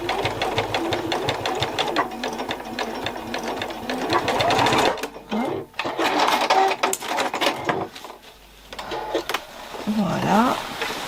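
Domestic sewing machine stitching a seam on a Burda easy jacket, steady rapid mechanical whirring with brief pauses and restarts, close up, under a woman's speech.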